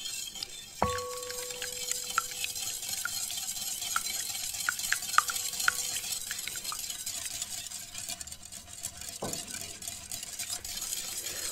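A spoon stirs microwave-melted butter in a bowl for a cherry clafoutis batter, with a steady soft swishing and light clinks against the bowl, close up and without talk.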